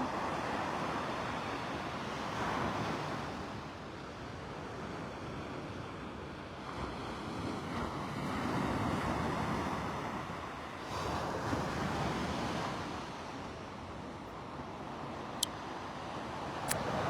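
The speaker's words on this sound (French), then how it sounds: "Juste ce bruit des vagues." Ocean waves washing ashore in slow swells, a continuous broad rush rising and falling, with some wind buffeting the microphone.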